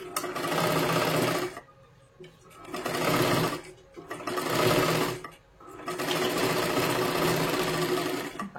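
A sewing machine runs a double seam on a katori blouse in four long bursts of steady whirring stitching, close and loud, separated by short pauses.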